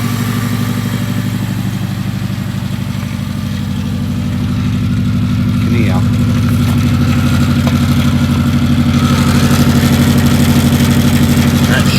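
A neglected Subaru Impreza WRX engine idles close by with a steady low throb and a faint metallic rattle, running continuously and growing slightly louder.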